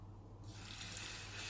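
Hot water is poured into foxtail millet adhirasam dough, a faint steady hiss of liquid beginning after a short quiet pause and continuing without a break.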